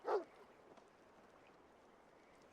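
A dog in the video game Assassin's Creed Valhalla gives one short bark or yip near the start, followed by faint low ambient game noise.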